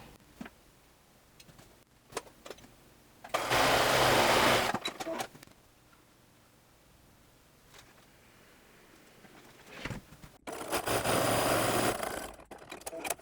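A sewing machine stitches a Hong Kong bias bound seam finish in two loud, steady bursts of rapid whirring, each a second or two long, separated by a quieter stretch of cloth handling and light clicks.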